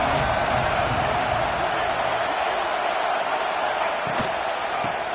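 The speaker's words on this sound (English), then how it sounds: "This crowd trying to make life miserable for this offense." A stadium crowd in a simulated American football game roars as a steady, broad wash of noise, with a few faint thumps now and then.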